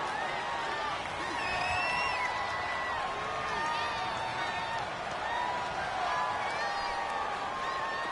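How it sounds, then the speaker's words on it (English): Stadium crowd noise from a PS4 football video game: a steady wash of cheering and roaring fans with scattered whoops and whistles rising above it, filling the background at moderate level under faint talk. "The crowd's not doing that O-line any favors."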